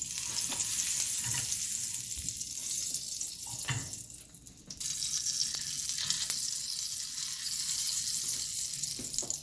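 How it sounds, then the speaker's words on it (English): Butter sizzles steadily in a hot pan as it is spread around for a croissant, egg and cheese breakfast, a continuous close crackling hiss with occasional scraping strokes and brief dips, no talking. "Now, we spread the butter everywhere."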